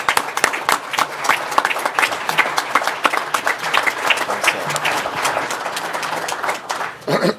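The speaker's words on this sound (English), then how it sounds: "I think everybody should give a round of applause to our chairman." Scattered, fairly close applause at a Port Authority public board meeting for the board chairman, with individual claps distinct within the round and a few murmured voices underneath.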